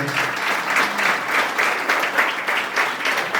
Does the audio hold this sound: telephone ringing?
no